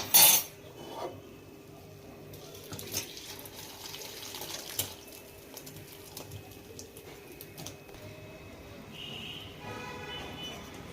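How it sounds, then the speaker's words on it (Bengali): Boiled soybeans and their cooking water are poured out in a kitchen, giving a steady running, splashing water sound with a few light clinks of a pot or utensil near the start. "সয়াবিনগুলো আমার সিদ্ধ হয়ে গেছে এটা আমি ঢেলে নিচ্ছি"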